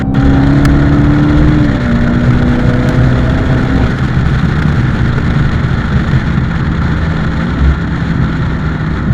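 A Dodge Challenger Hellcat with a 707-horsepower engine accelerates loudly from inside the car, its deep engine drone stepping up through gear changes with steady road noise.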